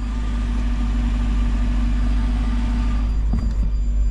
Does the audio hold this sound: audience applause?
no